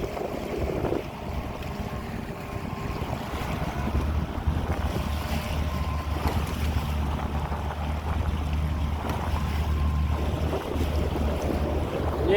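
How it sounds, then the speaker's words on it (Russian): Rough waves and gusting wind buffet a small fishing boat trolling along a coastline, a continuous roar of wind noise on the microphone with a steady low engine drone beneath the sloshing water. "Волны вообще бешеные."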